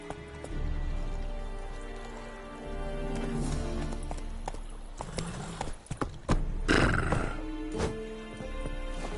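Roach, the horse in The Witcher, clip-clops with rhythmic hoofbeats that speed into a gallop, and a whinny breaks out partway through amid scattered game sound effects.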